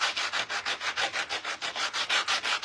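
A power sander works on wood with a rhythmic, pulsing rasp, about five strokes per second, close and steady with no talking throughout.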